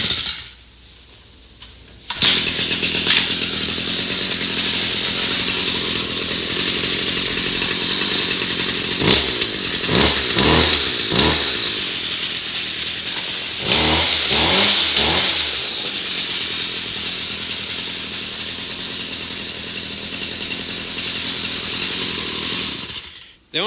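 Small gasoline engine on power equipment with a spark arrestor, running with the choke off, starts up then drones loud and steady, with a few revving surges along the way before cutting off at the end.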